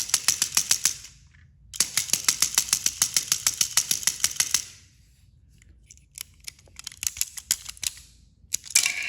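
A slightly dirty model train engine motor is tested, giving loud, close, rapid rhythmic clicking and clattering bursts that stop and restart in irregular, sputtering runs, with no voices.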